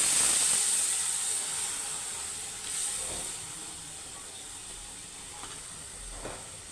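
Boiled whole masoor lentils tipped into a hot pan of masala, setting off a loud steady sizzling hiss that slowly fades, with a few faint clinks, close by and without speech.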